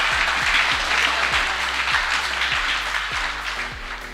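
An audience applauds at a motivational talk: a dense, steady wash of clapping from many hands that stays loud and slowly fades toward the end, with a low hum underneath.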